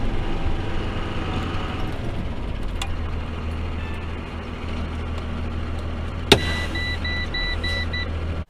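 Air-ride truck cab rolling along on a test drive, steady low engine and road rumble throughout with a sharp click near the end followed by faint repeating beeps.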